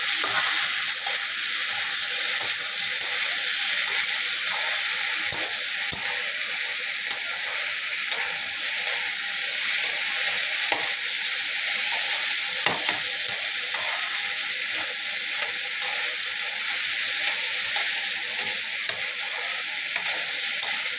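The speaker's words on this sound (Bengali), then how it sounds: "মশলার পেস্টটা আছে এখানে, একটু ফ্রাই করে নিই।" Spice paste frying and being stirred in a pan, a steady bright sizzle running throughout with frequent scraping and stirring clicks from a utensil, close and continuous with no talking.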